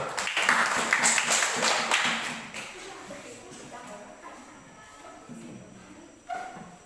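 Classroom applause from junior high students bursts out loudly, then thins and fades after a few seconds, leaving scattered claps, shuffling and a voice speaking near the end.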